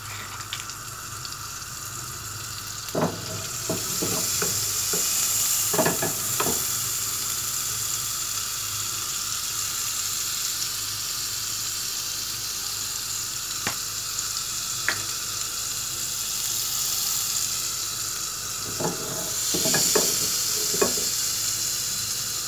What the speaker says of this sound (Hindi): फ्राई पैन में एक अलग फ्राई पैन लिया, इसमें मैंने ऑयल डाला। अब इसमें मैं ये बटर डालूँगी।